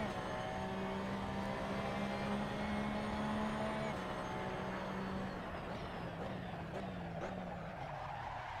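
A race car engine in Assetto Corsa on PS4 at Imola holds a steady mid-pitched drone, with faint tire scrubbing as the rear steps out under full throttle on the grass. The note dips slightly midway, then sustains at moderate level without speech.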